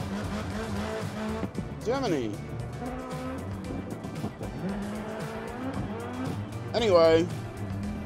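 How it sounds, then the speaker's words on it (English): A loud supercar engine in DiRT Rally 2.0 revs, rising and falling, with a few squealing tire sweeps near the start and again near the end. Someone talks over it throughout. "I should know better than to do these intros with these cars. They're too loud."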